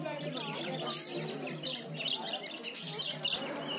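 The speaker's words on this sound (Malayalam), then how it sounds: "പിന്നെ അടുത്തത് നോർമൽ ലവ് ബേർഡ്സ് ആണ്." Love birds at a pet show chirp and tweet in quick, busy bursts close by, mixed with a voice speaking over them.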